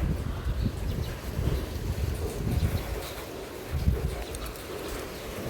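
Strong wind roars steadily outdoors, buffeting the microphone with low rumbling gusts and no talking.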